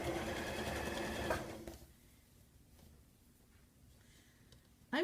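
Sewing machine stitching a curtain hem, a fast steady whirring run up close that stops abruptly partway through, leaving faint room noise.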